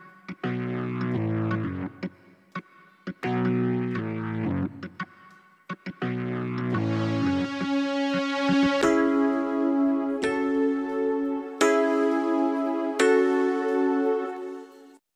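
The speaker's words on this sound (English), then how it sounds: "the pad's going to the vocal reverb, the H3000, and the keyboard is also going to the H3000." Pad and keyboard tracks from a mix of a cover song, both sent through an H3000 vocal reverb: sustained synth chords and keys, with choppy stabs at first, then a fuller held pad with ringing keyboard notes over it, loud and steady.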